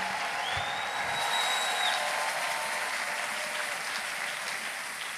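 Church congregation applauding during a Sunday worship service, a dense, steady wash of clapping from many hands that holds for several seconds with no voices over it.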